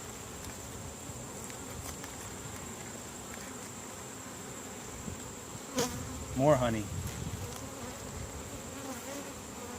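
Honey bees buzz faintly and steadily around open hive frames, with a brief louder buzz as one passes close; a person speaks briefly.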